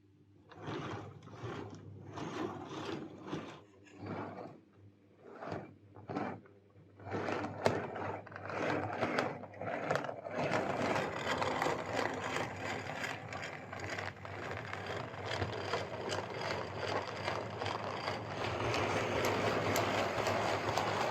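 A Bachmann Branchline Class 4 model locomotive with a severe wobble, running slowly on track. Uneven clattering mechanical pulses start it off, then settle into a continuous close whirring rumble with a rhythmic shimmy.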